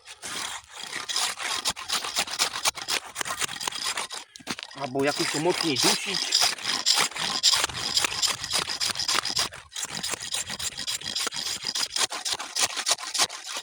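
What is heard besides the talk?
hand saw cutting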